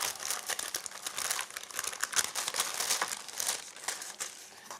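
Continuous crinkling and rustling of parchment paper being peeled and pulled from sticky shortbread dough, close and fairly loud, with no talking.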